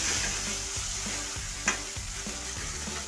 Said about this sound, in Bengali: মশলাটা ভাজা হয়ে গেছে, তেল ছেড়ে দিয়েছে।